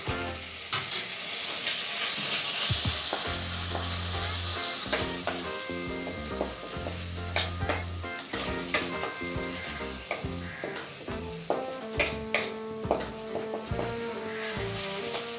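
Masala with tomato paste sautés in a pan, holding a loud continuous sizzle with repeated stirring scrapes and knocks of a utensil, close by, while background music plays underneath throughout.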